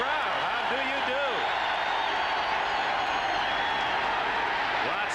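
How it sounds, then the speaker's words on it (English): Large crowd noise fills a football stadium during a Miami Dolphins vs Seattle Seahawks game, a loud, steady roar that holds throughout with a broadcast announcer talking over it. "Listen to this crowd."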